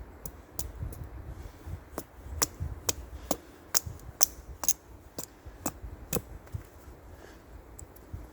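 Thin strips of camp firewood being cut for kindling, a string of sharp, close chopping knocks spaced roughly half a second apart, with no voices.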